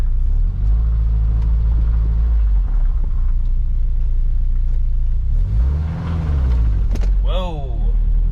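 1986 Mazda B2000 mini truck being driven with a touchy throttle and worn clutch: close low engine drone that rises and falls with revs, a brief squeal near the end, and someone talking over it.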